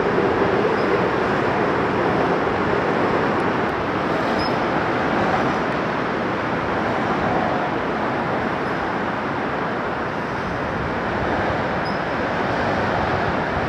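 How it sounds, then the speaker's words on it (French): Metro train passing below a hill in Seoul, heard as a loud, continuous broadband rumble that holds steady throughout with no pauses or voices. "en dessous, il y a le métro qui passe"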